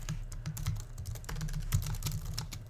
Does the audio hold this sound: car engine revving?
no